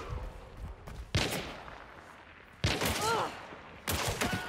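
Officer Carbine rifle fire in Hunt: Showdown comes as three rapid bursts of sharp shots, separated by short gaps, over quiet background ambience.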